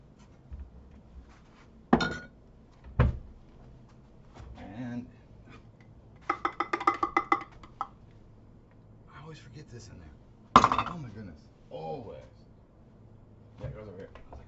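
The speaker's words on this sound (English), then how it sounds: "Got dishes to wash" Dishes and cutlery being washed in a home kitchen, sparse clinks and sharp knocks, with a quick burst of rattling clatter midway, under intermittent talking.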